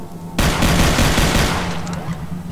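The video game Brutal Doom 64 lets loose a sudden, loud burst of rapid gunfire that starts abruptly and keeps roaring continuously to the end, with nobody speaking.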